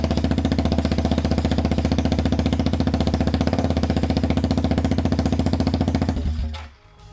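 A BMW G650GS motorcycle engine idles loudly and steadily with only the header pipe fitted and no exhaust, a harsh, rapid unmuffled rhythm for several seconds before cutting off abruptly.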